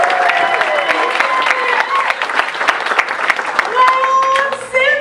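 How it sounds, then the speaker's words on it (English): An audience at a charity comedy event applauds loudly and steadily for the full stretch, with whoops and cheers rising through the clapping and some voices mixed in; it thins briefly near the end. "a round of applause for Andrea Canny, ladies and gentlemen"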